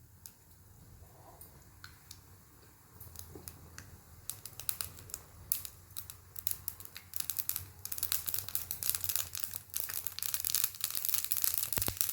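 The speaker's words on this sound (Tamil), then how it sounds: "இதில் இப்போ வந்து கடுகும் கருவேப்பிலையும் தாளித்து கொட்ட போகிறேன்" Mustard seeds and curry leaves crackle and pop in hot oil while tempering for Mysore dosa, the spatter starting sparse and growing into dense, loud crackling.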